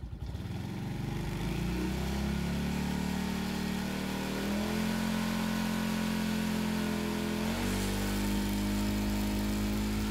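A car engine revs steadily under electrical load during a charging system check, with park lights, headlights and hazards switched on. The revving rises and shifts pitch in several steps and stays loud and close throughout, with no talking.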